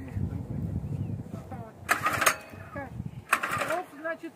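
An engine at a country dacha is being started, with two short cranking bursts over people talking.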